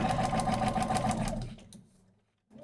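A sewing machine stitches line 4 of a big game-day sewing job in a rapid, steady mechanical chatter, close and loud, then slowing and stopping.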